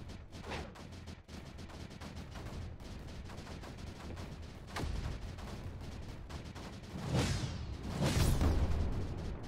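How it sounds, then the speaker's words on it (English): Cannons fire in the strategy game Creeper World 4, a dense, fairly faint stream of rapid gunfire-like pops and thumps with a few louder booming blasts toward the end, no talking. "Our cannons are doing a pretty good job."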